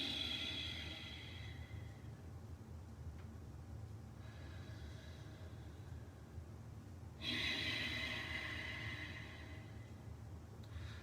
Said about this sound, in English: Inhale, snoring sound, vibration of the air over the back of the throat.